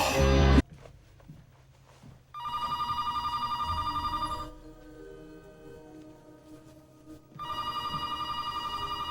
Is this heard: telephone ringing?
yes